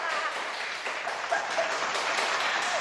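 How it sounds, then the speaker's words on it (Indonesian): An audience clapping at a dental clinic talk show, a steady, fairly close round of applause with no voices over it. "Tepuk tangan dong buat RSGM."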